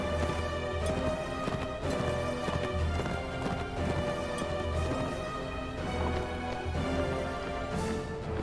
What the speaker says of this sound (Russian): О, лошадь.